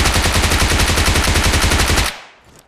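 Rapid automatic gunfire in the PUBG Mobile video game, a loud, close, evenly spaced burst of shots that stops abruptly and trails off into a short fading echo.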